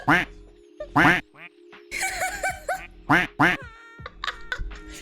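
Several loud, close quacks from a plastic duck in the Placid Plastic Duck Simulator video game, the Uwu duck among them, come in short bursts with a person talking between and over them.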